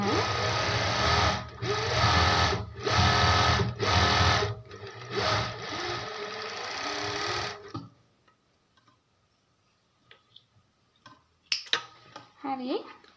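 An overlock sewing machine stitches the edges of sleeve pieces for a gown, running loud and close in steady whirring bursts with brief pauses, then stopping and leaving only faint clicks and handling noises.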